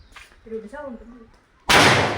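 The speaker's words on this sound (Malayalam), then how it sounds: "മാല പടക്കം പൊട്ടണ പോലെ പൊട്ടണ" Palm-leaf firecrackers left over from Vishu go off: after a brief voice, a sudden loud blast erupts and carries into dense, sustained crackling, like a firecracker string bursting nearby.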